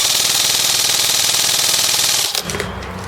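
An airsoft gun fitted with a Prometheus 407mm tightbore barrel fires a rapid, evenly spaced burst of metallic clacks at close range for about two seconds, then stops.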